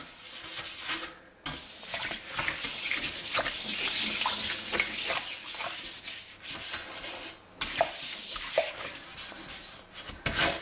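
Cleaner gel being rubbed and spread around the walls of a stainless steel sink, a steady close scrubbing and sanding-like friction with brief pauses, no talking.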